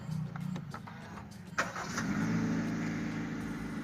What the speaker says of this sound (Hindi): तो ये स्टार्ट होते ही 1500 RPM पे जाती है गाड़ी।